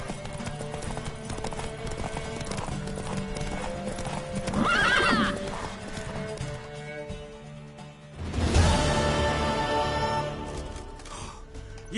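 Horse hooves clip-clopping at a gallop in Witcher 3, with a loud whinny midway and a sharp snort or neigh near the end, all fairly close and steady throughout.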